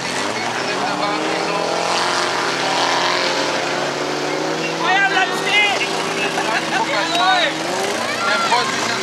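VW Polo race cars in a German Heide-Cup banger race, engines droning steadily on the track with rising and falling revs, while a commentator talks throughout.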